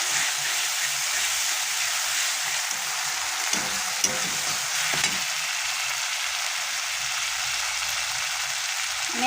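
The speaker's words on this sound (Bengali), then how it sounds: "আমি একটু ভালো করে নেড়ে নেব।" A paste of ground ginger, garlic and cumin sizzles steadily in a hot pan as it is stirred, a loud continuous frying hiss with occasional soft scraping knocks of the spoon.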